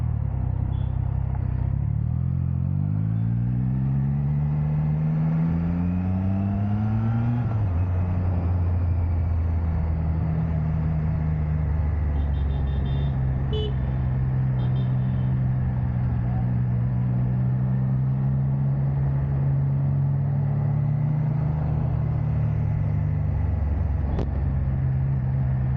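Kawasaki Ninja 1100SX motorcycle with a free-flow exhaust, engine loud and close, revving up with rising pitch in the first seconds, then holding a steady, throaty idle-to-mid rumble with small rev changes throughout.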